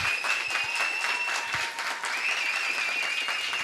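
Dense, sustained audience applause for six dancers at a music academy's salangai pooja ceremony, steady and full-bodied throughout with no break.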